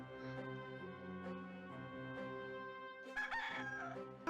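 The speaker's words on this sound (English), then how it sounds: "Ah, there it is. A rooster." A rooster crows in the Discworld 2 video game, a long drawn-out cock-a-doodle-doo with clucking, set against steady background music, followed by a louder burst near the end.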